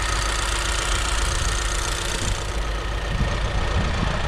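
A 2026 Kia Sportage 1.6 T-GDI AWD turbocharged petrol engine idles steadily up close, a smooth low hum with faint ticking and no talk.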